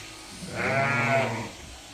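A single white sheep gives one loud, wavering bleat lasting about a second inside a barn, close by, with quiet background noise around it.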